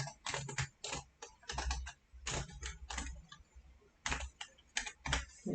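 Typing on a computer keyboard while writing Python code: quick clusters of light key clicks come in irregular bursts with short pauses, close and fairly quiet, with no talking.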